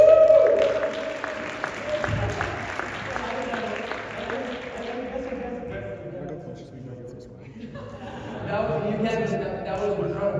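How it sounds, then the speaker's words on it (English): Audience applause at a tech conference talk on Azure Databricks, a broad wash of clapping that swells and fades under a noisy hall with voices mixed in. "Round of applause."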